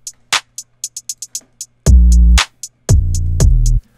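An 808 bass run through an RC20 VHS preset in a trap beat remake of Roddy Ricch's "The Box": quick hi-hat ticks at first, then two long, slightly softened booming bass notes with a faint static haze.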